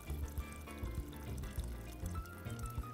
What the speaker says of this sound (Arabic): وبعدين بدنا نحط مرق الدجاج وكوبين مية